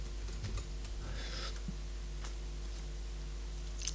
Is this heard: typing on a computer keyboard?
yes